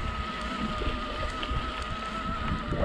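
Steady wind roars across the microphone on a high Alpine mountain bike ride in Piedmont's Valle Maira, a continuous buffeting rush with gusty swells throughout and no speech.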